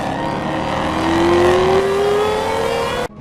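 A Shelby Super Snake's supercharged 5-liter Coyote V8 roars loud and close, its pitch climbing steadily as it revs before cutting off abruptly.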